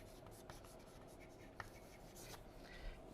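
Chalk or marker writing on a classroom board during a biology lesson on plant respiration, a faint steady scratching with a few light taps, no talk over it.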